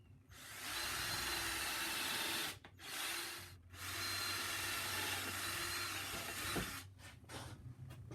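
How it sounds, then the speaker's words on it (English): A power drill bores pilot holes in wood for a workbench drawer box, a steady whirring motor in several bursts with short pauses between, fairly close but not loud. "I'm going to drill some pilot holes here"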